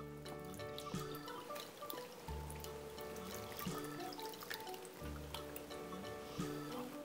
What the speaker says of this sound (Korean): 국물을 부어 보겠습니다.